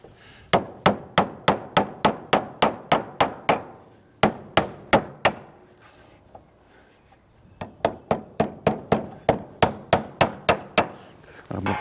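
A hammer driving a nail into wood: two runs of rapid, evenly spaced sharp blows, loud and close, separated by a brief pause.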